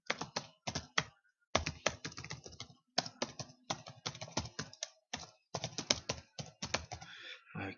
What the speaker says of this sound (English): So here I want to type in the email address I want it to go to.